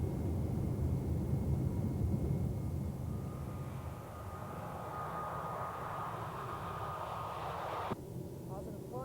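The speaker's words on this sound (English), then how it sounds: "So takeoff thrust" Boeing airliner engines spooling up to takeoff thrust, a loud broad roar from inside the aircraft with a rising whine and a brief rattle near the end.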